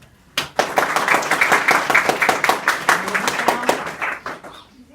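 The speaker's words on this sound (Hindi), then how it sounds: "ताली बजा सकते।" School students at Bal Vikas Higher Secondary School in Shahgard break into group clapping, a brisk run of overlapping hand claps lasting about four seconds before tapering off.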